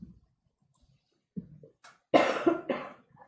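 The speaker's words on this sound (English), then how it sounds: "I'm just going to cough for a second." A few close coughs during a committee meeting, a quiet one first, then two louder coughs in quick succession, with faint clicks and breaths between them.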